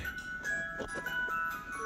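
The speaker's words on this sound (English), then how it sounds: "Sounds like an ice cream truck." A faint, tinny ice cream truck jingle plays from a distance, its melody steady and thin against a quiet background.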